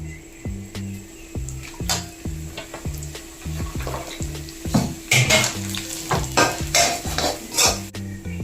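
Coconut oil sizzles in a pan for a breadfruit and prawn curry, with steady frying hiss and rhythmic clinks of a utensil against the pan.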